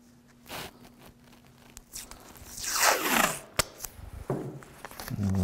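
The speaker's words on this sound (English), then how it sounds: "Let me get a piece of this tape." Adhesive tape peeled off a roll during airbrush work on a Bo-Katan helmet build, a loud rising tearing rip near the middle, with small handling clicks and rustles before and after.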